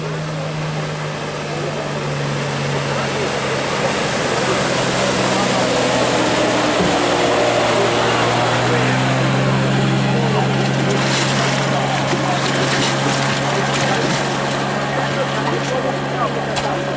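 A motorboat speeds past on open water during a children's boat ride in Pittsburgh, its steady engine drone and rushing wake loud and continuous, with wind noise and people talking nearby.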